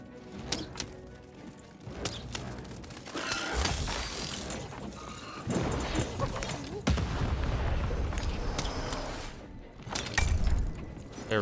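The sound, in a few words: cannon firing in video game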